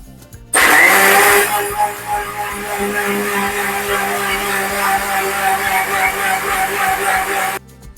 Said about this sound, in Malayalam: ചോറും പിന്നെ ഒരു കപ്പ് വെള്ളവും ഇത് നന്നായിട്ട് മിക്സ് ചെയ്തെടുക്കാം